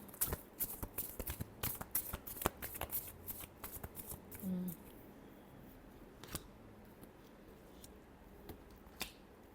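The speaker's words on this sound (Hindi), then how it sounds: "Last shuffle." Tarot cards being shuffled by hand in a quick run of crisp riffling flicks, then a few sparser taps and shuffles, close and quiet with no talk.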